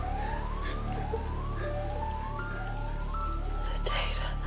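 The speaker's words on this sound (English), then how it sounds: "The ambulance is coming." An ambulance siren wails in rising sweeps, repeating steadily and growing in intensity over a constant low rumble in a sci-fi film scene, with soft whispered voices faintly beneath it.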